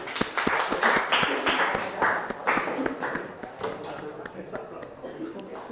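Classroom audience applause after a group presentation, with loud, close clapping of distinct individual hand strikes that gradually tapers off, with some voices underneath.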